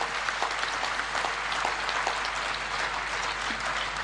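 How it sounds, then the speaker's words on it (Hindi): An audience at a Divine Heart Hospital anniversary celebration in Lucknow applauds the Honorable President, producing a steady, dense wash of many hands clapping that holds evenly throughout. "मैं सबसे अनुरोध करूंगा कि तालियां बजाकर महामहिम राष्ट्रपति महोदय का अभिनंदन किया जाना चाहिए"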